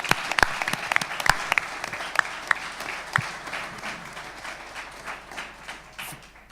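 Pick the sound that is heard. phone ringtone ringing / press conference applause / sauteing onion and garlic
press conference applause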